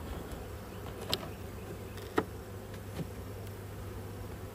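Honey bees buzz softly around an open hive box while a super is being added, a faint steady insect hum with a few brief clicks and knocks, no talking.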